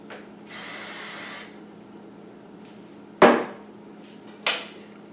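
A short hiss of hairspray from an aerosol can, followed by two sharp clicks or taps and a brief second spritz.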